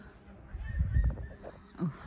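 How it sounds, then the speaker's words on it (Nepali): Birds calling outdoors among trees in a breezy natural spot, a few honking, goose-like calls close by, one louder call near the end. "चरा कराएको पनि सुनिहाल्यो"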